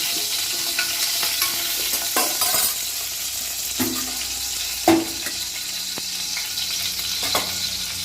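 Shrimp and a dried chili frying in hot oil give a continuous bright sizzle, broken by a few sharp spatters and the clack of a stirring utensil, with no talk.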